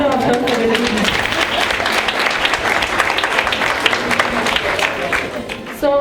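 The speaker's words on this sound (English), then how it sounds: "So a round of applause for" Loud, continuous applause from the audience at a stock exchange opening bell ceremony fills about six seconds, with voices briefly heard over the start and end of the clapping.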